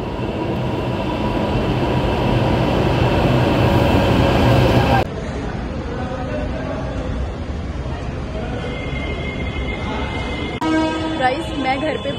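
A loud, steady metro train roar rushes past, then cuts to a quieter rumble with faint squeals and clanks as the train continues.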